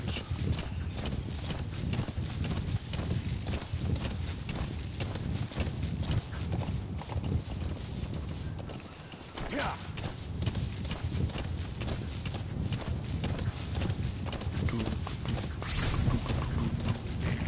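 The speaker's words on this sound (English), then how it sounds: "Look at my horse. My horse is amazing." Horse hooves clip-clop steadily and continuously at a trot in the Metal Gear Solid 5 video game, loud and close over a constant outdoor background with a brief lull near the middle.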